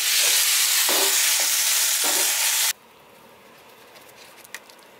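BBQ jackfruit in barbecue sauce sizzles and is stirred in a pan, a loud steady frying hiss with a few scraping strokes that stops abruptly halfway, leaving quiet room tone and a faint tap.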